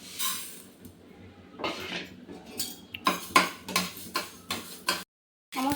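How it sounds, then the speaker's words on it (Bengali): Black mustard seeds dry-roasting in a pan, stirred with a utensil that scrapes and clinks against the metal in irregular close bursts, ending in a brief silence before one more clink. "এবার আমি সরষেটা ভেজে নেব।"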